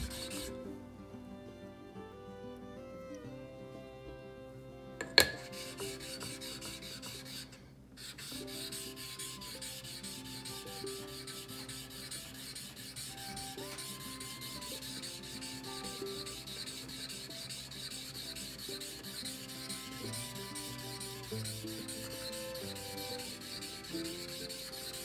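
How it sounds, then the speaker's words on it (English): A Ruger 10/22 bolt is polished by hand with 8000 grit abrasive, giving a steady, quiet rubbing and sanding sound that runs continuously. One sharp tap lands near the start, and faint background hum sits underneath. "You'll see it doesn't take long and we're not removing very much material here."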